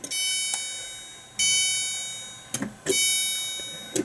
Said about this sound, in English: Appropriate with a MAD chime.